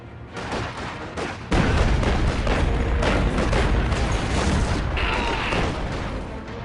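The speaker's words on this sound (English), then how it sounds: "Detonate the explosives." Explosives detonating in the World War II strategy game Company of Heroes 2, heard as a sudden heavy boom that turns into a dense, sustained rumble of blasts and battlefield noise with no speech.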